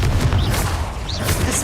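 In Hogwarts Legacy, the Confringo explosive spell goes off as a dense, rumbling blast with a loud, sustained roar of crackling noise and brief whistling streaks.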